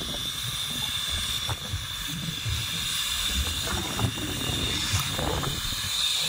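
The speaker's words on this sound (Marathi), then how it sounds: "परत एकदा गॅस चालू." Outdoor gas burner hissing after being turned on to cook Maggi: a steady, fairly loud hiss runs throughout, with faint crackles and low rumbling underneath.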